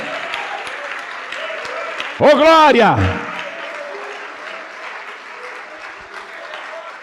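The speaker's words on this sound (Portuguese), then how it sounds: "Vamos aplaudir mais, igreja." A church congregation breaks into a short, loud burst of applause lasting about a second, with a voice shouting over it and continuous preaching talk before and after.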